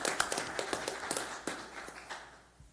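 Applause from a committee hearing audience in San Diego, a sparse scattering of claps with a few louder individual hand strikes that thins out and fades.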